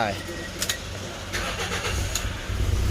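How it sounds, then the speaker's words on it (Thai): A Toyota Altis key clicks into the ignition, then the engine cranks and catches, settling into a close, steady idle while someone talks. "เดี๋ยวลองสตาร์ทกัน เอากุญแจมานะครับ เสียบเข้าไป"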